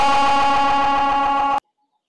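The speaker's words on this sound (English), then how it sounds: "Alright, so I have delay and distortion" A voice run through delay and distortion effects with Voice Mod Pro makes a loud, buzzing, harmonic drone that cuts off abruptly into silence.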